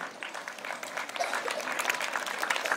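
An audience at a school tribute ceremony for martyred soldiers claps to welcome a guest, a brief burst of moderately loud, dense hand clapping.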